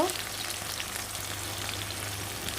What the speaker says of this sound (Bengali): এই পর্যায়ে আমি কেটে রাখা রসুন পেঁয়াজ টমেটো দিয়ে দেব সবই একসঙ্গে দিয়ে দেব